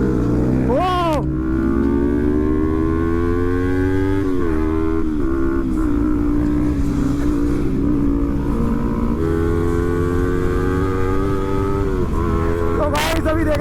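Two Kawasaki ZX10R motorcycles racing, with a loud engine drone that rises in pitch as the bikes accelerate, a brief rev near the start and another near the end, close and continuous throughout.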